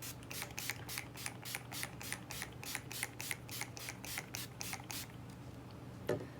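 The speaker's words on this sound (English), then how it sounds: "so now I'm gonna set everything with my setting spray" Rapid series of short, hissing mist sprays from a makeup setting spray, about a dozen evenly spaced pumps, close and fairly quiet, ending with a faint click.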